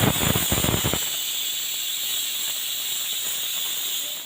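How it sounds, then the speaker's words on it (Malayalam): A kitchen pressure cooker vents steam. A loud, rough burst opens, then settles into a steady, high hiss that continues to the end. "ഇത് കുക്കറിലിട്ടെടുത്ത് വിസിലടിപ്പിച്ചെടുക്കുന്നുണ്ട്."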